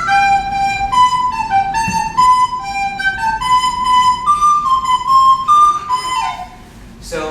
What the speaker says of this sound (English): This is actually a wind instrument. It's called a recorder.